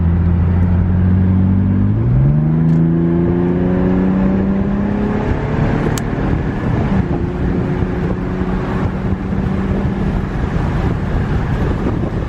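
A 2014 Infiniti Q50 with its muffler deleted accelerates at full throttle. The loud engine drone rises steadily in pitch through the gear changes, under constant wind noise heard from inside the car.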